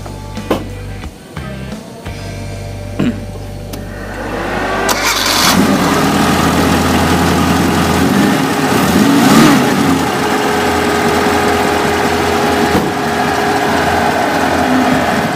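A Suzuki Jimny built in a rally-look style cranks, catches and settles into a steady idle, the engine close and loud with a brief rev at the start before holding an even rumble.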